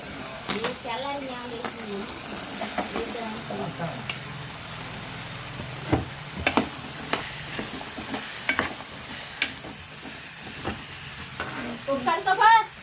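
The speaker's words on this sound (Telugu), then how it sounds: "బంగాళదుంపలు సన్నగా తరిగిన బంగాళదుంపలని కదా వేస్తుంది" Thinly sliced potatoes added to a pan with a tomato curry, sizzling and frying steadily while a spoon stirs and scrapes at intervals, clatters growing busier toward the end, with a person talking over it.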